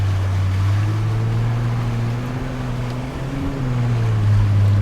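Porsche Cayenne first-generation SUV pushing through a muddy puddle, its engine holding a steady, loud low drone at moderate revs with a slight dip and swell as it powers on, no talk over it.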